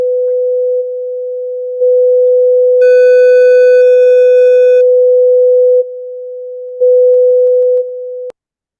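Steady electronic sine tones from Genius software hold one pitch, with brief overlaid higher harmonic tones partway through. The level steps up and down between segments before cutting off abruptly, loud and continuous with no voices.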